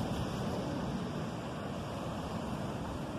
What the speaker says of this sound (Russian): смотрите на море